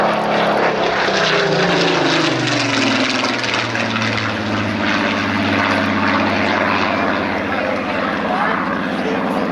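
A Supermarine Spitfire Mark 19 propeller fighter roars past at the RAF Cosford airshow, loud and close, its engine drone sweeping down in pitch as it passes and then holding steady.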